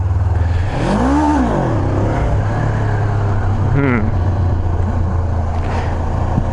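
A Honda CB500F beginner motorcycle revs during a wheelie attempt. Two sharp engine surges climb and fall over a continuous loud idle drone.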